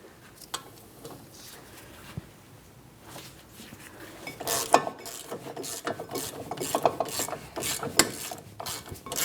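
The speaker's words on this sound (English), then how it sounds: "Now I'm making my way down to the next mounting bolt." A ratchet clicks and rasps while a brake mounting bolt comes off the rear of a 2004-2008 Pontiac Grand Prix, sparse at first, then growing into louder, busier bursts of metallic ratcheting.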